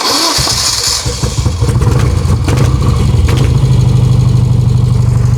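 A 1973 BMW R75/5 motorcycle cranks over for a moment, then its engine catches and settles into a loud, steady, close-up idle with a throbbing low rumble.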